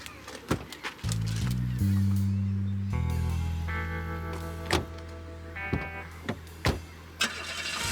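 A car engine cranks and turns over with a whirring start, then settles into a low idle, with a few sharp clicks and thumps like doors around it.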